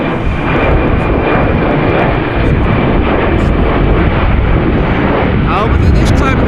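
Airliner engines roar at full reverse thrust on a windy runway, a loud, broad, steady rushing blast with wind buffeting throughout, heard from a distance.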